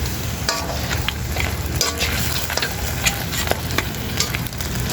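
Food bubbling and sizzling in a pot as a home-cooked dish simmers with sauce, a steady close crackle with scattered pops and light stirring clicks throughout, no talking.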